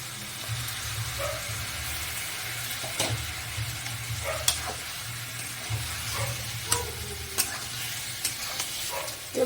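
Ginger paste and onion-garlic paste sizzle steadily in hot oil in a pan, a continuous frying hiss with occasional soft clinks and scrapes from stirring, and nobody speaking.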